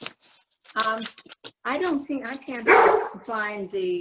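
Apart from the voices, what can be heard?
dog barking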